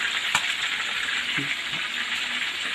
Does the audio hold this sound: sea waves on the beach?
no